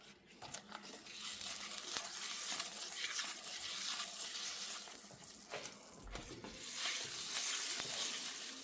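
French toast slice frying in a buttered pan, a steady bright crackling sizzle with wet spattering and occasional pops running throughout, fairly close and without talk.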